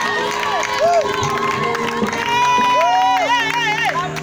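Crowd cheering and whooping, many excited voices close by, shouting and rising calls over a continuous noisy roar across the whole stretch.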